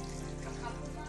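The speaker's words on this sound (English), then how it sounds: "the rest of that bone broth is going in now" Bone broth pours steadily into a pot of zucchini and white bean soup, a continuous close liquid gush lasting the whole moment without a break.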